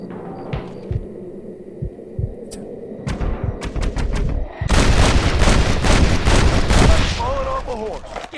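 Gunshots ring out in the Western video game Red Dead Redemption, a few sparse cracks followed by a dense, sustained burst of loud rapid fire, with game sounds underneath.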